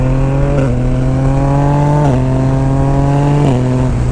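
A Yamaha Niken three-wheeled motorcycle fitted with an Akrapovic exhaust, its engine droning loud and close with several rising rev pulls and brief gear-shift dips, no talking over it.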